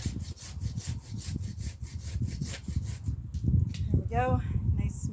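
A handsaw cuts through timber during winter maintenance on a ruin in Portugal, with steady rhythmic back-and-forth rasping strokes close by, slowing near the end as people talk and a dog barks in the background.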